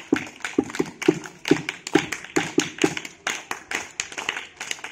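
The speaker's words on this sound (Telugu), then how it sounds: "చప్పట్లు కొడదాం పత్రిజీ గారికి." A small group claps for Patriji in a series of sharp, fairly even claps. The claps are close and moderately loud and run steadily for several seconds, with no talking over them.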